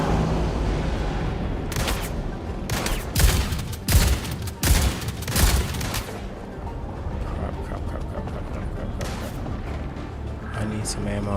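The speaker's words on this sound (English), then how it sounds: "Someone shooting." Gunfire in the Star Citizen video game: loud, clustered bursts of shots crack through the middle of the scene, then taper off to sparse, quieter reports over a steady background rumble.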